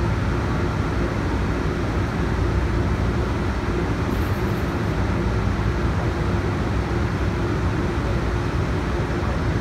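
Steady low rumble of an MBTA Green Line light rail train in motion on the Boston College branch, a continuous broadband roar with no voices, as heard from inside the moving car.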